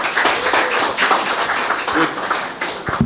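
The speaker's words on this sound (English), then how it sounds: "Round of applause for him," An audience at a National Authentication Framework conference gives a round of applause for Ezra, a moderate, steady patter of clapping that carries on for several seconds with a few faint voices underneath.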